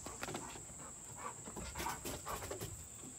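A big dog panting in quick, rhythmic breaths close by outdoors near a house door, with a constant high whine in the background.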